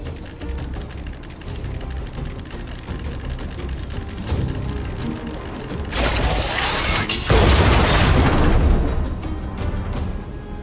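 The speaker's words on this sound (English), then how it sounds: "We wiped them all out in a single explosion!" A bomb explosion in the video game Honkai Star Rail bursts out as a loud, broad crash and rumble that builds and sustains over several seconds after mechanical clanking.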